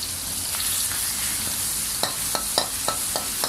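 Thai red curry paste with pounded fresh chilies, garlic and salt stir-frying in a pan over medium heat, a steady broadband sizzle with several sharp spatula scrapes and clicks in the second half, close and without talk.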